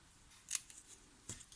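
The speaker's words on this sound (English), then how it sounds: "Oh, helps if I cut it properly." Scissors cutting a small scrap of designer series paper, two crisp snips spaced about a second apart, close but quiet, with no talking.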